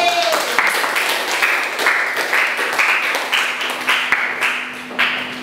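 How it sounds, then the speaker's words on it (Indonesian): A small group claps in a steady rhythm for several seconds, the applause moderately loud and fairly close. "Berarti kita beri tepuk tangan ke kelompok B"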